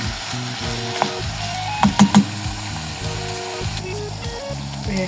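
Small pieces of chicken breast sizzle and fry in a pot for a soup, a steady crackling hiss with a few brief louder clinks or scrapes near the middle.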